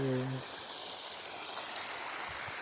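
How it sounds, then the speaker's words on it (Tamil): Water gushes steadily from the 2-inch delivery pipe of a 900 W solar water pump on a coconut farm in Dharmapuri district, a loud continuous hiss and splash; a brief voice is heard at the start. "ஸோ 2 இன்ச்சு டெலிவரி, நல்லாவே ப்ரெஷர் வந்துக்கிட்டு இருக்குது. ஒரு 2 அடி தள்ளி நல்லாவே தண்ணி ஊற்றிட்டுருக்கு."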